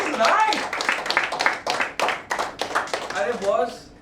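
Loud rhythmic clapping from an audience at a recruitment training session, quick bursts of hand claps with voices talking and calling out over them.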